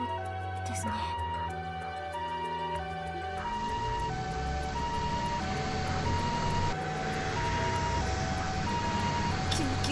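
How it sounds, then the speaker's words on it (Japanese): An ambulance siren in a PS4 video game wails in two tones steadily over a low engine rumble and background music, continuous and fairly loud throughout. "サイレンの音ですね。"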